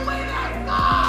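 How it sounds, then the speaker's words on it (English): A spectator in the arena crowd at an esports major finals shouts loudly over a steady, dense crowd din, with the yell rising near the end. "Someone just shouted, "We're going to win SI.""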